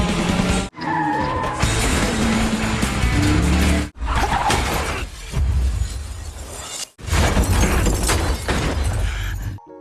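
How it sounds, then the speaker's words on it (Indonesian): Car window glass shatters and crashes loudly in several bursts, separated by brief silences, with vehicle noise and debris sounds throughout. "Juga membuat mobil pangeran kacanya pecah."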